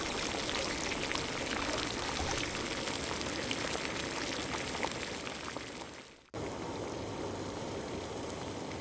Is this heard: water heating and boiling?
yes